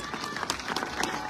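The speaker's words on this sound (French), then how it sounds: "On peut l'applaudir très fort, Iker Oskoili." Brief burst of crowd applause for a musher at the closing ceremony of a sled-dog race, steady scattered clapping at moderate distance with a voice faintly underneath.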